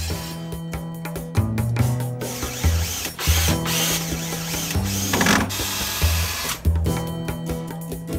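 A power drill whines loudly in bursts, its motor pitch rising and falling as it starts, runs and briefly stops, with mechanical rattling.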